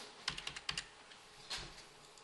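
A value is typed on a computer keyboard in a quick burst of close key clicks, then one or two more presses follow after a short pause. No one talks.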